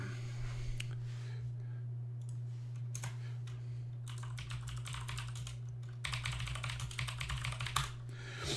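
Someone types a password on a computer keyboard while setting up a Raspberry Pi, fairly quiet irregular key clicks in short bursts over a constant low electrical hum.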